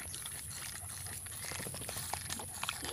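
A dog laps water in a park, faint wet slurping and dribbling sounds repeating unevenly over a quiet outdoor background.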